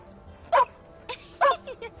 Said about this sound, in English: Gosh, what a lovely dog.